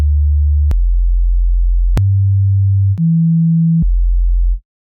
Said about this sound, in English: Now, if I play any note, you'll just see a sine wave.